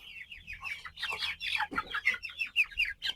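Several 34-day-old colour bird chickens cluck and squawk in quick, overlapping bursts, close by and fairly loud, with a brief flurry of flapping or scuffling midway as one is caught for weighing on a poultry farm.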